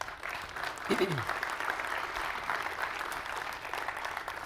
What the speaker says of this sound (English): So give those guys a round of applause.